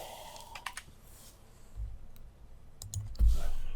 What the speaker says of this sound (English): I want to type in small.